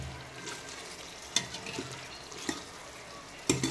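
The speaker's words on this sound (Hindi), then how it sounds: "इसको अच्छे से मिक्स कर लीजिए" Green masala mutton liver, kidney and heart being stirred in a pan, a faint steady sizzle with a few sharp clinks and scrapes of the spoon against the pan.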